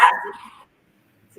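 A single dog bark, sharp and close, trailing off quickly into near silence with a faint sound at the end.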